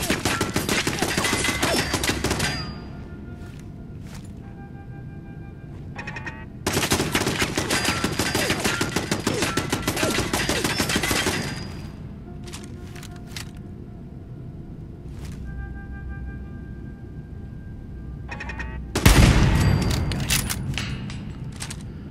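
Bursts of automatic fire from an enemy turret in Fallout 4, loud and close: two long sustained volleys with sporadic single shots between, and a sharp heavy impact near the end.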